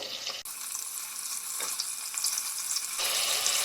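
Steady, loud sizzling of potatoes frying in a hot pan for curry leaf pulao, a continuous crackling hiss with a brief stir partway through.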